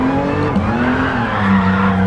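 A RUF CTR3 in a VR racing game brakes hard from high speed, its tires skidding with a sustained squeal over the dropping engine note, loud and close, no one talking.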